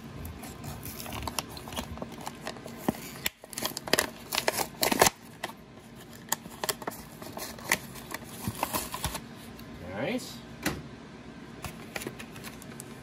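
Plastic packaging of a Star Wars Ahsoka Tano Vintage Collection action figure being opened, irregular crinkling, tearing and clicking handling noises up close, with a few sharper snaps and rustles, no talking.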